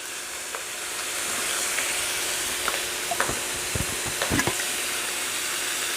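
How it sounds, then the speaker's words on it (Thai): Salmon skin and fish balls stir-frying with holy basil in a hot pan over high heat, giving a steady sizzling hiss with scattered clatters of a spatula stirring, fairly close. "แล้วก็จะผัดให้ปลากับลูกชิ้นเราสุกเลย"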